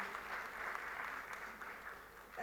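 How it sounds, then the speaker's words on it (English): Faint, steady applause from a conference audience welcoming a speaker, many hands clapping evenly at a distance, with a slight swell near the end. "So please give her a round of applause"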